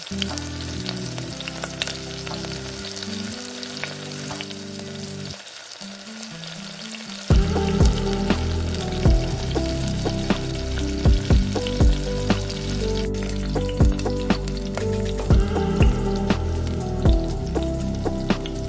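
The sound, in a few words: tomato puree frying in oil, stirred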